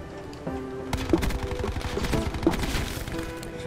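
Gunfire in a Treyarch Call of Duty multiplayer match: a rapid string of sharp shots rattling over busy game noise, fairly close and continuous, with no talking.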